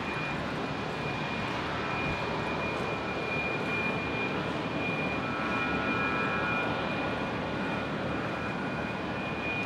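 Fokker airliner engine at Brisbane International Airport, a steady broad roar with a thin high whine running through it, heard from a distance and holding level throughout, with no voices.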